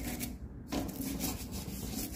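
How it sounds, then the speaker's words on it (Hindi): Cleaning brush scrubbing a dirty corner, a steady close rasping rub that continues alone for about two seconds after a brief quieter moment at the start. "स्कॉच ब्राइट से अच्छे से साफ ही नहीं हो पाता, तो ब्रश से इजीली साफ हो जाता है।"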